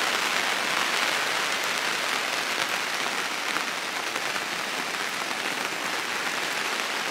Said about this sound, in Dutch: Het regent pijpenstelen hier.